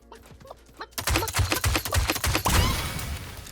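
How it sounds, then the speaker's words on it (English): Gold crossbow firing in the video game Realm Royale Reforged, a rapid string of loud, punchy shots in quick rhythm, close and dense, ending in a noisy rumble. "the gold crossbow is shredding"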